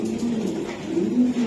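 A Moro Lakkhi pigeon coos close up in a low, continuous rolling call, clear and alone with no voices.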